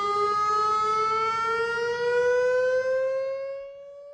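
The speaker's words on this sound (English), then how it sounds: "A monthly community alert siren test will take place tomorrow." A community alert siren test tone holds a loud, steady wailing pitch that drifts slightly and then fades toward the end.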